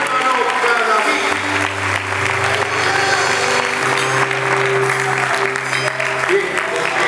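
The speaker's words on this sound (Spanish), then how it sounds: "pueden dar el aplauso mejor al Señor" Applause from a church congregation fills the space steadily for about seven seconds, with a sustained organ or keyboard tone held underneath.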